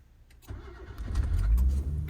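A kei car engine cranks and fires up in the snow, catching after a short churn and settling into a rising, rumbling idle, fairly close and moderately loud.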